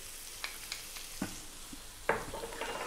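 Garlic hits a pan on medium heat while a chicken tomato pasta sauce cooks. A few light spoon taps come first, then a sudden bright sizzle burst that settles into steady frying crackle, close and alone.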